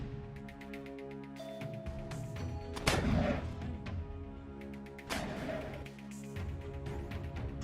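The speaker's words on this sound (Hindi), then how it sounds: "कुछ लड़ाके एक पेड़ के पीछे छिपकर लगातार रॉकेट फायर करते हुए नजर आ रहे हैं" Rockets fired repeatedly by fighters hiding behind a tree, with two heavy booming blasts standing out over a steady low rumble and ringing tones, heard from fairly close with no talk.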